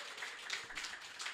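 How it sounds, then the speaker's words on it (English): Light, scattered applause from a modest audience at a Brighton Fringe registration launch event, soft and somewhat distant, with claps overlapping in an uneven patter. "a round of applause for the Ledwood Centre"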